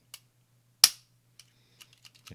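A Ruger LCP Max pistol trigger gives one sharp dry-fire click, followed by several faint small clicks as the trigger resets and the gun is handled, against a quiet low hum.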